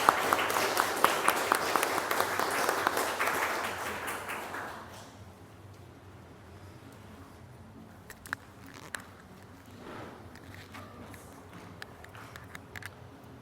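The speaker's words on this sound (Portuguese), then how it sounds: "Uma salva de palmas para Deus e para os irmãos." A church congregation applauds together: dense, close, loud clapping for about five seconds that then fades out, leaving a quiet room with a few faint taps and shuffles.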